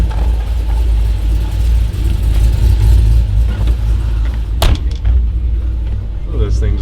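A car engine idles with a steady, close low rumble that settles slightly lower toward the end, broken by a single sharp click partway through.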